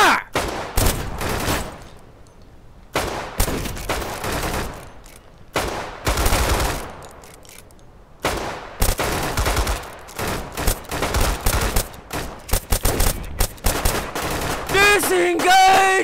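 Volleys of gunfire from a line of soldiers firing on command, repeated loud bursts of shots separated by short pauses, with shouting and music rising toward the end.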